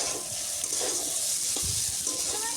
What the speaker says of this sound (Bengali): মাংসটাকে ভালো করে ভেজে নেব